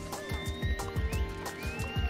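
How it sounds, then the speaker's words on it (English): A horse in a video game trots with rhythmic, evenly spaced hoof clip-clops while a whinny rises briefly over the hoofbeats. "Get on my horse."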